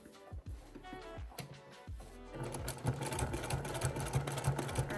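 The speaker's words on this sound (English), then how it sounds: "You're gonna sew down just over that fold and then stop." A sewing machine stitches down quilt binding along a fold, its rapid running burst starting partway through after a few quieter handling sounds, steady and close with no talking.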